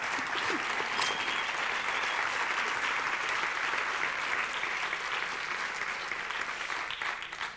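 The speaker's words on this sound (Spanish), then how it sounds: "Un aplauso para Paloma." Warm audience applause at an award event, a full room clapping steadily and evenly, with a faint voice underneath, tapering slightly at the end.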